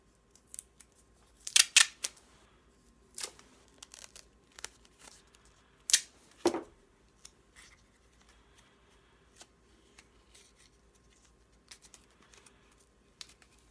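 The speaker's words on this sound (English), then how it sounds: "simply fold the cardboard and duct tape it together" Cardboard being folded and bound with duct tape for a homemade sheath: sharp ripping tape pulls and crinkly handling noises come in scattered bursts, close and otherwise quiet.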